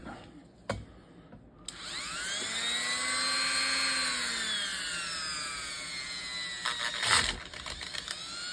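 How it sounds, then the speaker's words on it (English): A Dremel rotary tool whines steadily at high speed while working on parts of an AR-style rifle chambered in .350 Legend, its pitch rising and falling slightly as it bears on the material, close and continuous with brief clicks at start and end. "I'm going to play around here with my Dremel, see what I can come up with."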